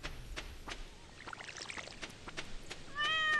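A cat in Stardew Valley meows once near the end, a short clear tonal call following soft scattered clicks and taps from the game at a quiet level.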